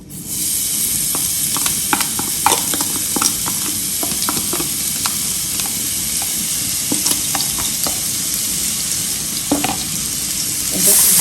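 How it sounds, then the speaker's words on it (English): Chopped onion with a teaspoon of sugar sizzling loudly in a pan, a steady bright frying hiss with frequent clicks and scrapes of stirring throughout, growing slightly louder at the end. "chopped onion here. So I'm gonna add that in the pan"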